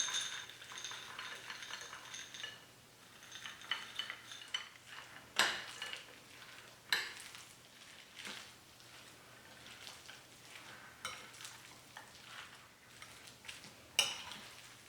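Steamed bun filling for Lao kalapao being mixed with corn and peas in a bowl, a quiet clatter of spoon and dish with a few sharper knocks of utensil against the bowl, close and unhurried.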